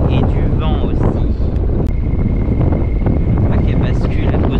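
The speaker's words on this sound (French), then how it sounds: "Et du vent aussi." Strong wind buffeting a microphone outdoors on a walk near the Château de Marmande, a loud continuous roar of low rumble filling the whole stretch, with brief snatches of a voice talking over it.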